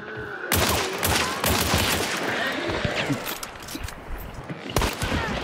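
Rapid gunfire in the video game Hunt: Showdown, with loud bursts of shots in quick succession and sharp cracks at the start and again near the end, while players talk over the firing.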